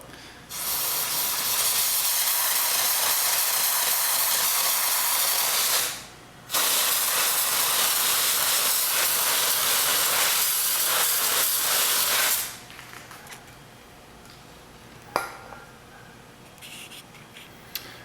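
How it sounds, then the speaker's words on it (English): Brake parts cleaner hisses loudly and steadily from a spray can onto new brake pads on a 2009–2013 Dodge Challenger R/T in two long close bursts split by a short pause, followed by quieter clicks and handling noise. "give them a little spray down with the same brake parts cleaner as well"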